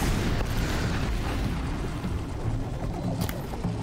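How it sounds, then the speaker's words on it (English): Explosion in the video game Horizon Zero Dawn, a loud, continuous rumbling roar that fills the whole stretch with crackling debris and no clear pauses, heard close and alone. "Blew something up unintentionally"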